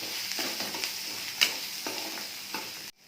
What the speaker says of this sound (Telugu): కొంచెం పసుపు, కొంచెం కారం వేసుకుని కలిగి పెట్టుకోవాలి.